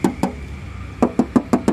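Knuckles rap on a car's metal body panel, sounding a pair of sharp knocks, a pause, then five more evenly spaced knocks, close and clear with no talking.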